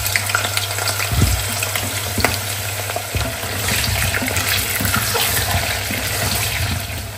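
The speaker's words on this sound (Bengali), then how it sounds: "আলুগুলো একটু ভেজে নিই।" Potato pieces frying in hot oil in a pan while biryani is being cooked, giving a steady, close sizzle that runs throughout with a few brief stirring clatters.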